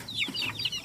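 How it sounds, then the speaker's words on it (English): Chicks in a garden, hungry, cheeping in quick high peeps and soft clucks, close and fairly clear over a faint outdoor background. "Check these chicks out. They must be starving."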